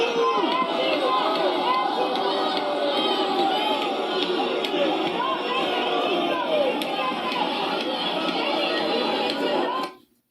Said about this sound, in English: Listen to what people are screaming out as this guy's banging on the window.